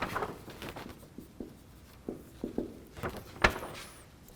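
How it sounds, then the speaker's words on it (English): Handwriting notes during a signals and systems lecture, with scratchy pen or chalk strokes in short irregular bursts and a sharper tap near the end, close and fairly quiet with no talking. "Okay, let me write some notes."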